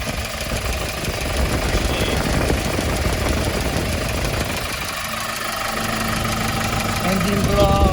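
A 2019 Hyundai Porter 2 refrigerated truck with a new engine block and injectors idles close by, a steady rumbling diesel drone with slight knocking that runs throughout.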